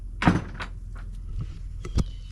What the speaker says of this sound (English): Close the door behind me